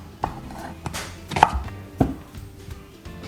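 Knife chopping vegetables into large dice for roasting, heard as a few irregular sharp chops on a board, close and fairly quiet, with no talking.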